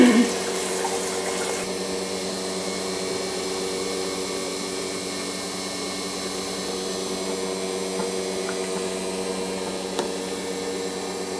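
Water runs steadily from a tap or through a machine while vinegar is being rinsed through to clear off coke, a constant close rushing hiss with a low hum and no talk.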